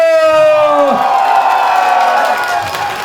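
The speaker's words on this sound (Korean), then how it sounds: "더해라 박수와 함성" At a touring comedy dance show, a loud crowd cheers and whoops, with drawn-out high shouts sliding downward over scattered clapping, close and energetic before easing slightly toward the end.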